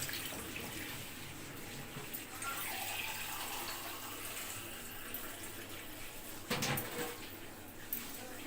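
Water poured into a cooking pot for beef karahi, a soft continuous splashing gush with a brief louder splash near the end, fairly faint.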